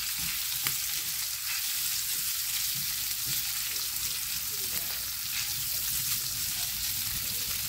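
Sausage sizzles and spits in a hot pan, a steady dense crackle close up with no pauses.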